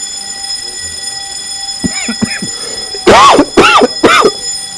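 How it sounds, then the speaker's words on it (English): A bell rings in a lecture hall during an information session, sounding in several long, loud tonal bursts that repeat after a short lead-in. "Gosh, that's a long bell."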